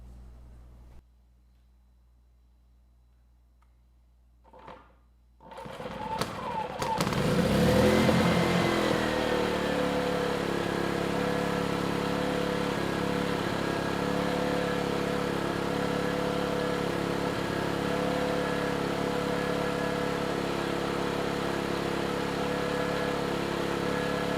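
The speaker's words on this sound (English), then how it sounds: "then we'll try starting the engine" An Erayak 4500PD inverter generator's small engine sputters, catches after a couple of tries, then settles into a steady, even running drone close by.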